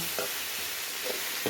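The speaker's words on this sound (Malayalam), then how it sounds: "നമുക്ക് ഇനി ഇത് മിക്സ് ചെയ്തെടുക്കാം" Coconut thoran hisses and sizzles steadily in a pan as it is stirred, with soft scraping strokes over a loud frying crackle.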